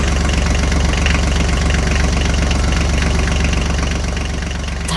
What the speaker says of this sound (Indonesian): Traktor hijau dengan roda kuning menggerakkan keranjang-keranjang yang penuh.